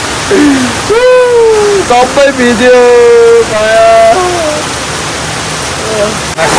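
Heavy rain pours down in a continuous broadband rush beneath a voice that talks and sings over it, and the downpour carries on steadily after the voice stops.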